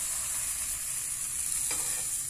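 Crepe batter poured into a hot frying pan over a fairly strong flame, giving a steady, close hiss of sizzling with a faint scrape partway through, and no talking.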